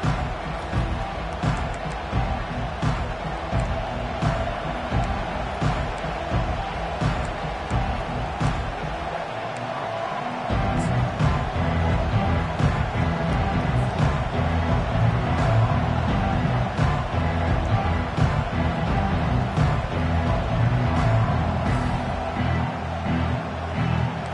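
Stadium crowd at a football game, a dense steady roar from a large home audience that swells louder midway and holds there, continuous throughout.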